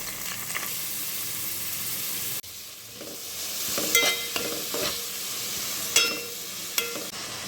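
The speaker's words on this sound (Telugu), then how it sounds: "మళ్ళీ నెయ్యి వేసుకొని, తర్వాత కొన్ని పచ్చిమిర్చి, ఆనియన్స్ కూడా వేసుకోవాలి" Green chilies and onions frying in ghee for paneer biryani, a steady hissing sizzle that drops abruptly, then continues with intermittent stirring scrapes, close with no voices.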